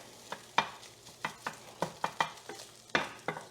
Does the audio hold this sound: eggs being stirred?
yes